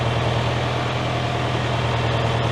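A David Brown tractor engine drones steadily with a low, continuous hum while under hydraulic load from the Selectamatic system, with no voices.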